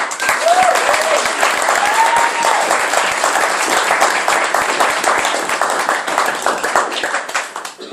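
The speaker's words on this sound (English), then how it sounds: "so please a round of applause for the newlyweds." Wedding guests applaud the newlyweds during a best man's speech, a dense, steady round of clapping from a sizeable crowd, loud and close, with a faint voice rising briefly over it before it tapers off.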